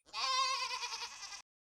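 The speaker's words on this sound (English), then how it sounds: "Goat." A goat gives a single drawn-out, wavering bleat, close and loud, lasting just over a second and heard alone.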